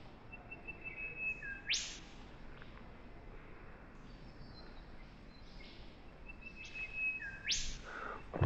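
A bird calls twice with a sharp rising whistle followed by a snapping note, fairly close, over quiet outdoor background.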